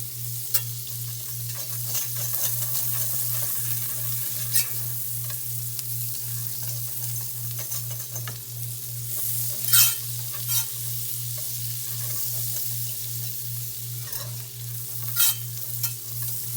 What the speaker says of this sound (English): I'm going to add 2 tablespoons of butter. Let that melt.